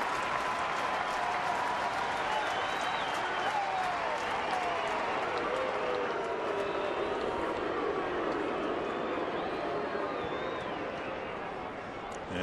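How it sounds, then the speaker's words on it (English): Baseball crowd on its feet at Target Field, steady applause and cheering forming a continuous roar with scattered whistles and shouts, fading slightly toward the end. "Crowd on their feet here at Target Field."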